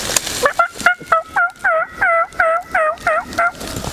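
A turkey hunter imitates a gobble with a call, a fast rattling burst of about ten loud, close, rhythmic warbling notes in a row.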